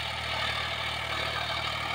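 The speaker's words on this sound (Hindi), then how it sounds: "ट्रैक्टर आपको चेक कराऊंगा ऊपर चढ़ के, 1500 RPM पे चल रहा है टॉप के लो में" A John Deere 5105 tractor engine runs at 1500 RPM in top-low gear while ploughing a field, a steady, loud, close diesel drone with no talking.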